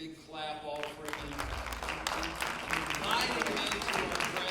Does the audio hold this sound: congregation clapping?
yes